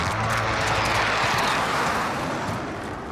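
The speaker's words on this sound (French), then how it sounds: "Drone allié dans les airs." Allied drone aircraft droning overhead in Call of Duty Warzone, a steady loud engine hum that stays constant and fades slightly toward the end, with no talk.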